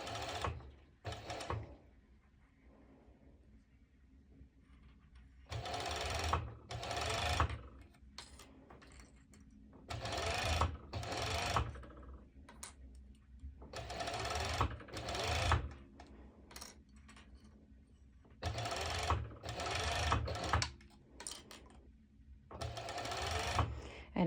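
A sewing machine slowly stitches mesh fabric for a festival top, running in several separate bursts of a few seconds each with quiet pauses between, close up and fairly loud.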